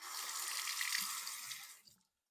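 A razor being rinsed under a running tap during a wet shave, a steady rush of water into a sink for about two seconds, close and alone, ending abruptly as the flow stops.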